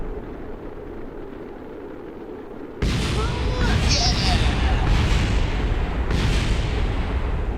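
A space station ring blows up in a space video game: a sudden loud, deep explosion that becomes a sustained rumbling roar, with a voice talking over it.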